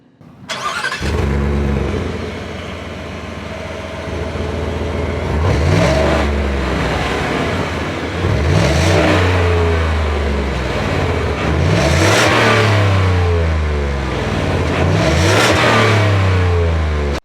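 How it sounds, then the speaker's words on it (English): Naturally aspirated 5-liter V8 in a 2025 Ford F-150 Tremor pickup starts up and revs repeatedly, with deep rumbling swells rising and falling in several loud bursts over a steady idle, close and with no talk. "I, of course, love the naturally aspirated 5-liter V8 in this."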